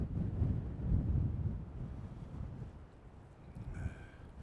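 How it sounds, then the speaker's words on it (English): A gust of wind buffets an outdoor microphone near a stadium construction site, a heavy low rumble swelling and easing over several seconds, strongest early on, with no talk. "big gust of wind just caught me in the mouth just, as I was about to talk"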